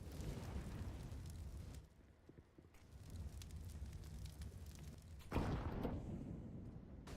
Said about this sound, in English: that was a nade that just landed on default